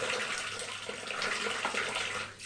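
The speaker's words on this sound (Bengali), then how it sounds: "বাটিটা ধুয়ে জলটা দিয়েছি" Water runs steadily from a kitchen tap while a bowl is rinsed during preparation of a spiced chicken kosha, a continuous close splashing rush lasting throughout with no talk.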